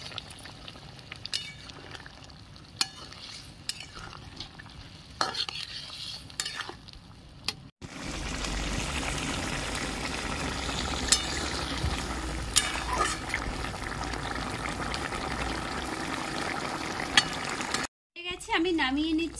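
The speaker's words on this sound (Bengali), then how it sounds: "ঝোল ফুটে উঠেছে, চিংড়ি মাছ আর পটল ভাজা দিয়ে দিচ্ছি।" Shrimp and fried pointed gourd dropped into a boiling gravy: a quiet stretch of clinks and small knocks gives way to a steady, louder bubbling sizzle that runs on evenly, cut off by a brief gap near the end.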